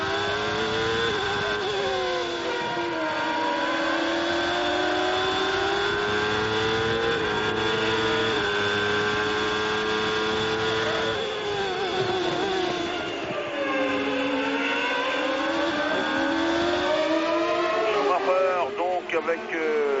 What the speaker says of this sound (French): on va essayer d'écouter un petit peu ce moteur Ford ZX V8.